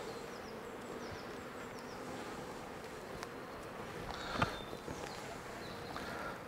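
Honey bees buzzing steadily around hive frames as they are brushed off while a nucleus colony is moved into a hive, with a brief soft rustle and thump partway through.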